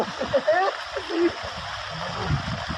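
Water splashing and gurgling as a person bathes, with irregular splashes through the clip under near, ongoing talk.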